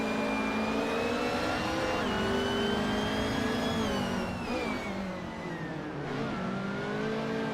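Race car engines rev continuously in a racing video game, with cars including a BMW 320 and a Peugeot 407 holding loud, steady tones that rise and dip as gears shift, with no talk over them.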